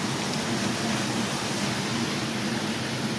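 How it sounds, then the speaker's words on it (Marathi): Steady, dense rushing water at a dam roars without a break, a broad even hiss that stays constant throughout. "इकडे पाण्याचा आवाज येत असेल तुम्हाला"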